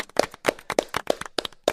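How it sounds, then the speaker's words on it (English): A handful of hands claps in a small group, sharp separate smacks roughly three per second, close and fairly loud with brief gaps between them. "A round of applause."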